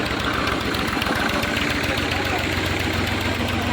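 A tractor engine idles nearby in a rural village setting, a steady low rumbling chug with a knocking rhythm running continuously at moderate loudness.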